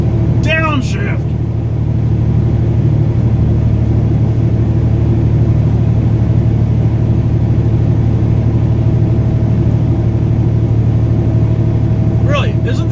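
A truck engine drones low and loud in a steady, laboring rumble while driving uphill through hills, with a brief whining squeal at the start and end, under continuous talk.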